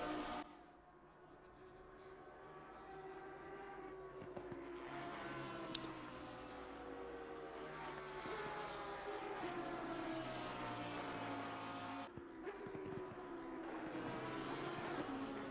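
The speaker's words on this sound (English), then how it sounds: "Love the sound of these cars." Race cars lap Silverstone in a sim racing game, their engines droning steadily with rising and falling pitch as they shift and pass. A commentator's voice runs faintly underneath.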